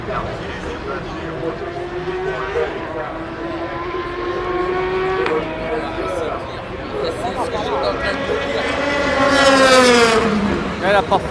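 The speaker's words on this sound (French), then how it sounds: "Là, la Porsche troisième qui vient de passer." At night during the Le Mans 24 Hours, a Porsche race car's engine howl rises and then falls in pitch as it sweeps past close by, loudest near the end, over other engines droning around the circuit.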